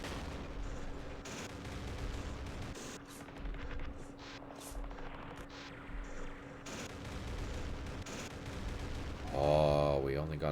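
Gunfire in the World War II strategy game Campaign Series West Front as units attack a Panzer IV tank, with repeated noisy bursts and booms over a steady hum, ending in a louder swelling blast.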